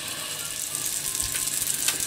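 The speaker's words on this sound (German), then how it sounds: "Das Ganze jetzt so 1-2 Minuten pro Seite ein bisschen anbraten." Butter sizzles and crackles steadily in a hot pan as an apple slice fries, with small pops and scrapes close up.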